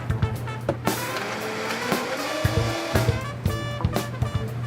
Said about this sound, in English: And then we're just gonna blend it up.